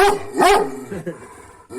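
A dog barks loudly and close, a few gruff barks with a growly edge.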